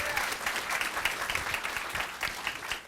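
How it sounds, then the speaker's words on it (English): An audience applauds a student jazz combo at a school board meeting, a steady dense wash of clapping held at an even level throughout. "a big round of applause for our students for taking a break from APs to come and perform for you"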